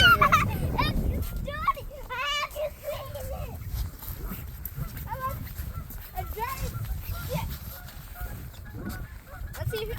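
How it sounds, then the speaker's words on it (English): Geese honking as they fly low overhead near a frozen river where new buildings are going up, a cluster of loud calls in the first few seconds then scattered calls, with children talking and calling out throughout. "geese flying overhead"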